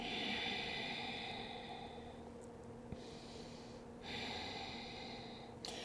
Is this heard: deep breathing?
yes